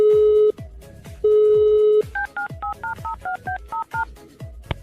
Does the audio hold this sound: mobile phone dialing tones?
yes